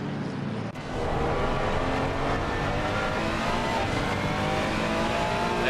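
A Ferrari race car in a racing video game at Misano, its engine droning loud and steady at high revs among a large pack of cars in spray, with a brief dip near the start before the roar resumes.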